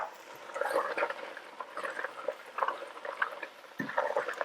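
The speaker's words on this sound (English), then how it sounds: "Give that a quick stir." Pasta being stirred into a one-pot beef stroganoff made with leftover pot roast, giving soft, irregular scraping and wet sloshing strokes at a moderate level across the whole stretch, with no talk.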